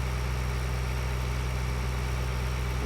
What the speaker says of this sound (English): I actually really like this little Bearer tractor you get.